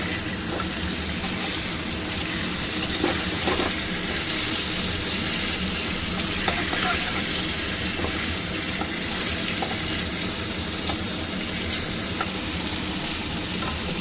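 Hilsa fish frying lightly in oil in a pan, a steady close sizzle and crackle that runs unbroken and evenly loud throughout, with no talking over it.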